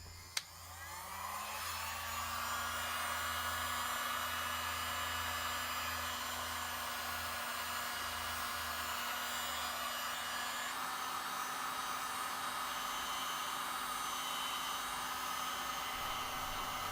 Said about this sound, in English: Let's turn on the heat gun now and attempt to remove some paint.